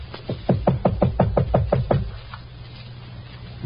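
Knocks on a hotel room door in a 1950 radio mystery drama: a quick run of about nine firm raps over two seconds, then the room falls back to quiet background hiss.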